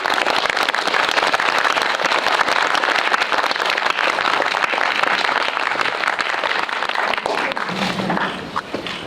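Audience at a special screening Q&A of the Korean war film Battle of Jangsari applauds to welcome two directors and an actor, a loud, dense, sustained clapping that fills the hall before tapering slightly at the end.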